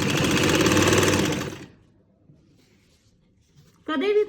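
A sewing machine stitches a salwar hem in a fast, loud, continuous whir for about a second and a half, then stops. A voice briefly speaks near the end.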